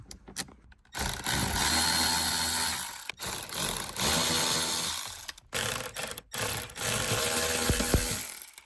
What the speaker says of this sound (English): Could just get my electric ratchet, to be fair, it's quite long.